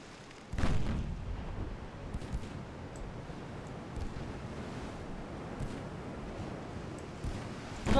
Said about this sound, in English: Fire armor-piercing rounds.